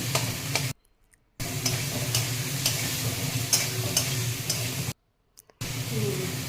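Spices such as turmeric, salt, coriander and cumin powder stirred and frying in a pan: steady sizzle with scraping strokes of a spoon, broken by two short silent gaps.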